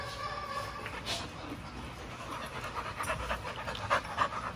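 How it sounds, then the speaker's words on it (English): Dominant XL Pitbull panting steadily in quick, breathy rhythm at moderate distance, faint against background noise, with a few louder breaths near the end. "She's a dominant dog too, Chloe is."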